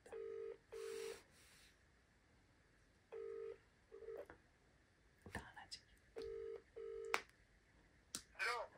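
Touch-tone dialing on a telephone for a prank call, with paired beeps repeated in three groups and separated by pauses, plus faint clicks and quiet murmuring between them.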